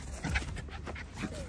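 Dog running and panting in quick, breathy bursts at close range, with rustling and faint background sound around it and no talking.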